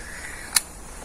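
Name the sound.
PSE Coalition Frontier 380 crossbow cocking and clicking into safety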